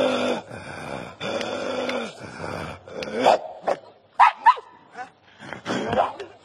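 A young man at a church deliverance service imitates a dog, giving a series of harsh barks, growls and yips in uneven bursts. Other voices are heard around him.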